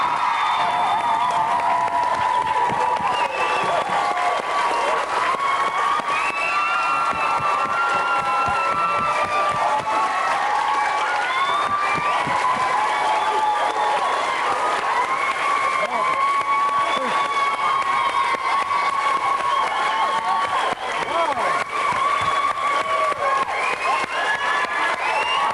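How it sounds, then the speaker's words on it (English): A school theatre audience applauds and cheers the show's staff after a stage production, sustained loud clapping with whoops and children's shouts filling the hall throughout. "Let's have a round of applause for all the staff who've helped with this show."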